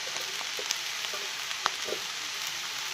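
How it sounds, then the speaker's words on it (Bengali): Cashews and raisins fry in a pan, a constant light sizzle scattered with sharp pops and crackles, close and steady without speech. "তো এখন ভালো করে ভেজে নেব"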